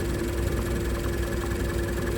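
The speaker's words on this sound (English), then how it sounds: "The engine might start running a little rough" A car engine idling steadily during a tailpipe emissions test, a constant close low hum and drone with no breaks.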